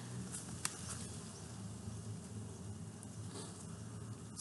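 A steady buzzing hum of many honey bees flying in and out of a hive entrance close by, continuous and moderately quiet, with no voices.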